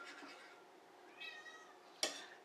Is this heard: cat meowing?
yes